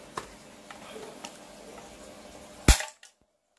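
Spring-powered Kimber Carry 1911 toy pistol fires a single sharp, loud snap near the end, following a few faint clicks and handling noises in a quiet room, then silence.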